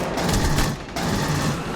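Sustained gunfire in the Aliens: Colonial Marines shooter, a dense, loud continuous barrage of weapon shots with a brief dip in the middle, fighting PMCs and aliens.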